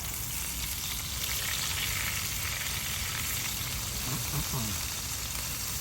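Steady, crackling sizzle of burgers frying in a hot pan, continuous and close, with a few soft clinks of a utensil near the end.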